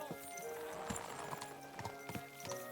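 A horse in the medieval video game Kingdom Come: Deliverance II clip-clops in a quick, uneven run of hoofbeats, faint and moderately near over a soft background score.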